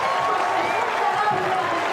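A stadium crowd cheering a pole vault clearance at the Madrid 2025 Team Championships, a dense, steady roar of applause and cheering with a commentator talking over it.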